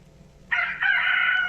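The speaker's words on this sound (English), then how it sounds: "Let's see Randy Rooster pop out." A cartoon rooster crows from the Letters Alive educational reading app, one loud, clear, close cock-a-doodle-doo in two joined parts, heard alone with no talking.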